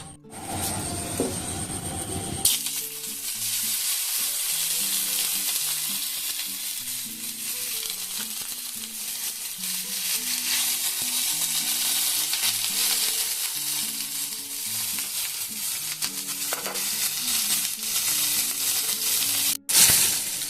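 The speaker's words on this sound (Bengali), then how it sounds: "এখানে তেল গরম হয়ে গেছে আমি পনিরগুলোকে এখন দিয়ে দেবো" Paneer cubes dropped into hot oil: after a brief quieter start, a loud, steady broadband sizzle takes over and holds for the rest of the stretch, with faint low clattering underneath and no speech.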